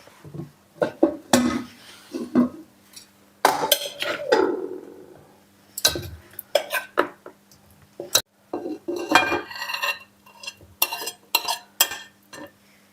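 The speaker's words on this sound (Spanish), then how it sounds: "Ahora echamos el lomo en orza, que por eso se llama lomo a la orza." Pork loin is dropped into an earthenware crock (orza) for a Spanish lomo en orza, with a series of clinks, scrapes and dull knocks of meat and utensils against pottery over a low steady hum, close and fairly loud.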